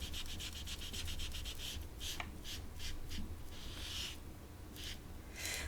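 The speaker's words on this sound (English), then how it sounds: "So I got a teeny tiny blending tool and let's put that down right here." A small blending tool rubs oxide ink onto paper in close, quiet, repeated scrubbing strokes, a soft rhythmic brushing with brief pauses between passes, no talking.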